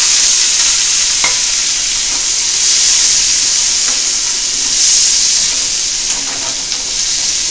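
Cut potatoes (batata) frying in a pan for a bhaji, a loud steady sizzle with intermittent scraping clicks of stirring throughout, close and continuous with no talking.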